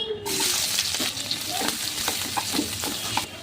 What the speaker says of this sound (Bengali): এই যে পেঁয়াজটা আমার হালকা ভাজা হয়ে গেছে